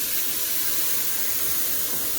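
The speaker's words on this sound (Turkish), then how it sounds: "Devamlı kavurduğumuz için Şerbet bayağı bir fokur diyecek." Hot syrup poured into frying flour halva, giving a steady broadband hiss and sizzle with dense bubbling underneath, continuous and close throughout, with no talk.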